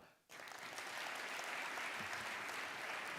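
Sustained applause from an audience at a Kenyan diplomatic anniversary ceremony as an ambassador comes forward to receive a career award, starting abruptly after a brief quiet moment and holding steady and full throughout.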